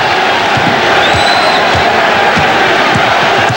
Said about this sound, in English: This crowd is starting to get a little bit antsy.